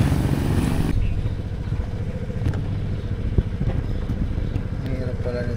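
Motorcycle engine hum heard from a camera mounted on the bike while riding, a steady low drone with road rumble and occasional clatter, after a brief loud wind burst at the start.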